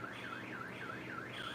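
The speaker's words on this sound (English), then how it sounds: "this is the alarms going off" A car alarm wails in a repeating rising-and-falling siren pattern, steady and fairly faint with no voices over it.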